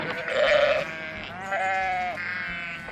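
A sheep bleats three times in a row, loud and near, each call wavering and drawn out, the first the strongest, with no talking over it.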